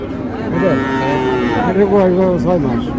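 A young heifer calf of Friesian or cross breed lows at a busy cattle market, one long drawn-out moo, loud and close, with faint crowd chatter behind.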